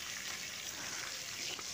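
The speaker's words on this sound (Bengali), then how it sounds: "দিয়ে সবজিগুলোকে প্রথমে আমি ভালো করে ভেজে নেব।" Vegetables frying in mustard oil with turmeric and salt, a steady close sizzle with a soft hiss that runs without a break and no voices.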